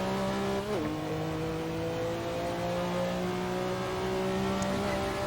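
Porsche 962C Group C race car in Assetto Corsa at Le Mans, engine droning at steady high revs with a quick gearshift dip early, then a long sustained pull, loud and close with no talking.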